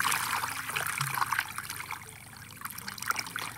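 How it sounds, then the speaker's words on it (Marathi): Borewell water running onto grass in a field, a steady trickling, splashing stream close by that carries on throughout with no talk. "तर बोरचं पाणी एकदम म्हणजे कमी झाले, एवढं पाणी चालतंय बघा एवढं असं."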